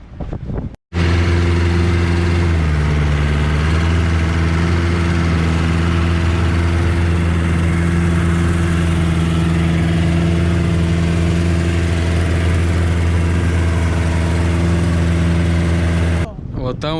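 A boat engine carries passengers out to sea near Ko Lipe, Thailand, as a loud, close, continuous drone with steady low harmonics that briefly dips in pitch early on and then holds for the rest of the clip.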